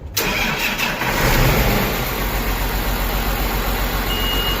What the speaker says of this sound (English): That's the oil pumps priming.